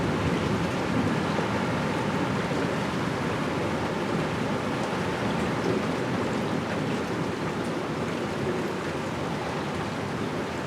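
Heavy thunderstorm rain pouring steadily in Bidart in the French Basque Country, a dense continuous hiss of downpour that stays loud and unbroken throughout, with no voices over it.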